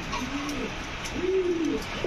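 Two soft, low coos from a pigeon close by, each a gentle rising and falling call, over quiet background noise.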